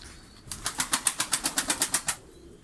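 A costume-breed pigeon beats its wings in a loft at a Karacabey, Bursa pigeon breeder's, a fast run of about a dozen sharp, evenly spaced flaps, close and loud, with no speech.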